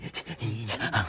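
A voice imitates a dog panting with a quick series of short, breathy huffs, close and fairly quiet, lasting about a second.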